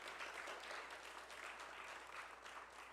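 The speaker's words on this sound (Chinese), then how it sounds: "我们来拍手来接纳我们的连成弟兄" Church congregation claps warmly to welcome a newly baptized brother during Sunday worship, an even, continuous wash of applause heard faintly and at a distance, with no talking over it.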